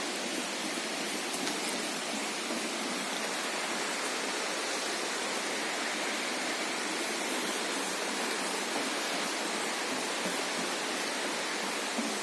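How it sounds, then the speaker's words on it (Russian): Orekhovsky waterfall near Sochi, a loud, constant roaring rush of falling water that fills the whole stretch without pause or voices. "Вот мы сейчас спускаемся к водопаду."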